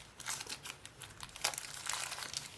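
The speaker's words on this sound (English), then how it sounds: "unwrap it" Plastic packaging around an Apple Watch wireless charger is unwrapped, with soft close-up crinkling and rustling in short bursts and one sharper crackle midway.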